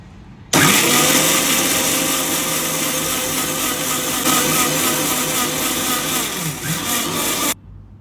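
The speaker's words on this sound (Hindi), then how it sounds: "अब इनको हम एक ग्राइंडिंग जार में ट्रांसफ़र कर रहे हैं। इसको पीस लेंगे अच्छे से।" A mixer grinder jar grinds boiled rajma and whole black urad, starting abruptly with a loud, steady motor whine and rough churning that runs for about seven seconds before cutting off.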